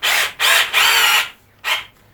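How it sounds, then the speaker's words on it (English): A power drill bores a recess for a jack into a pine guitar speaker cabinet, producing close, loud whining bursts: three quick runs back to back, a pause, then one last short burst. "And I'm going to use that to drill from the back."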